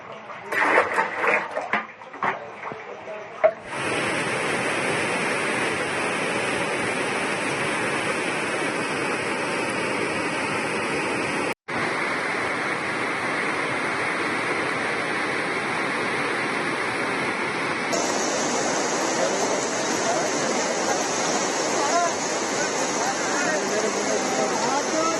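Flood water surges after heavy rain in Kalaburagi, Karnataka, a loud continuous rushing roar that holds steady, briefly cuts out midway, and follows some scattered clatter at the start.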